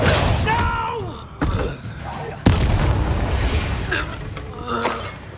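A Confringo spell blast in Hogwarts Legacy, sharp booming explosions that punch in abruptly at intervals over game music and effects, with a character's voice heard in between.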